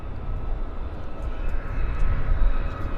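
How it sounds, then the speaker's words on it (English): Jet engines spool up at maximum takeoff power at Vancouver International Airport, a steady, fairly distant low roar that builds slightly, heard alone without talk. "I hear engines at max takeoff power."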